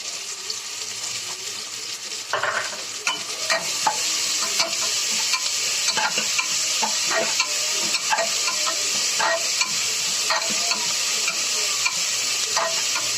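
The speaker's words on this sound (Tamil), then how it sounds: "இப்போ இஞ்சி பூண்டு பேஸ்ட்டையும் போட்டு வதக்கிக்கலாம்." Ginger garlic paste is stirred and fried with onions in a pan for tomato rice, a bright steady sizzle with frequent spoon scrapes that grows louder after a few seconds.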